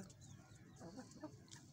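A few soft, quiet clucks from a desi hen, brief and low in volume against a faint background.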